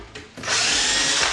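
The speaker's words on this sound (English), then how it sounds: "So what we're going to do is drill a new hole near the top of the" A power drill bores a new hole near the top of a hinge slot on a cabinet door, fitted with Grass 830 hinges, the motor whining up to a loud, steady high-pitched spin after a brief start.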